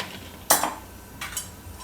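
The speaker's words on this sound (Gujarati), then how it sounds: "વચ્ચે વચ્ચે હલાવતા રહેવું." A utensil scraping and knocking against a pot while pearl millet flour soup is stirred as it boils, two short clinks close by, otherwise quiet.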